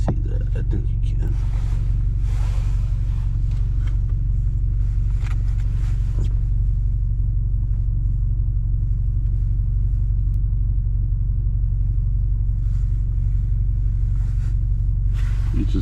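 A Subaru driving on snow, its low road rumble and engine drone steady and close throughout, with faint talk over it at times.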